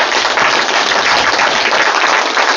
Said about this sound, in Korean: 큰 박수로 맞이해 주시죠.